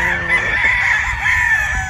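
Golden boy sweater gamefowl rooster crowing on a farm, a single loud, close crow held for about two seconds with a strained, raspy tone.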